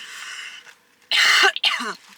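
A person clears their throat and coughs after eating a spicy American snack: two close, harsh bursts in quick succession following a softer breathy sound.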